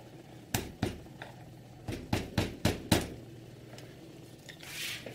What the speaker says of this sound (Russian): Берем большой грецкий орех с тонкой кожурой и вот так его чуть-чуть вот так пристукиваем